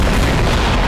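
A bomb goes off in Garry's Mod, a dense, continuous roar of blast noise filling the whole short moment at high loudness, with no voices over it.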